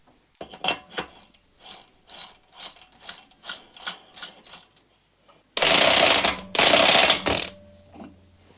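A ratchet clicks in a steady run of about ten strokes while the clutch is fitted to a vintage mower engine, followed by two longer loud bursts of rapid ratcheting, close and clear with no talking.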